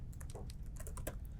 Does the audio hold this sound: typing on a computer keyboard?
yes